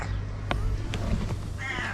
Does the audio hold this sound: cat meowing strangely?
yes